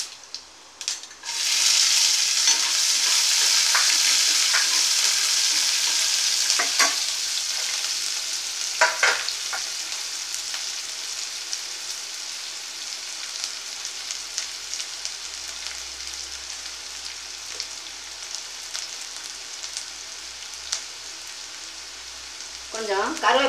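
Broken dried red chillies and onions fry in a pan for aval upma, a loud sizzle hitting at once and then settling into steady crackling with occasional stirring clinks, no talk over it.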